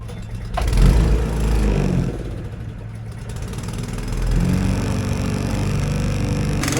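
Honda small engine running on choke that doesn't run well, a loud low chugging drone that rises and dips unevenly before settling into a steadier run.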